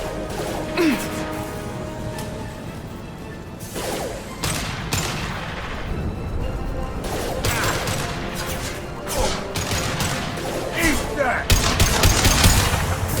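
Gunfire and impacts in the Mass Effect 2 Legendary Edition combat, repeated sharp shots and crashes at close range with busy battle noise throughout.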